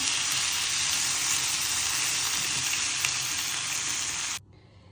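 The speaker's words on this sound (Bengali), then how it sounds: "পেঁয়াজের সাথে আমি টমেটোটাও দিয়ে দিলাম। এখন ভালোভাবে একটু ভেজে নিব" Onion and tomato frying in a pan, a steady dense sizzle that stays loud and close for about four seconds, then cuts off abruptly.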